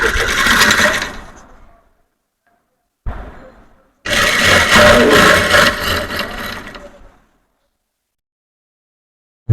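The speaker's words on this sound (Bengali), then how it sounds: "আমি সালোয়ারের ফিতার মতো করে একটু চ্যাপটা করে সেলাই করে নিচ্ছি।" A sewing machine whirs in loud, steady runs while stitching flattened strips of fabric like salwar ties, its motor rattling close by in two bursts separated by a short pause, then falling silent.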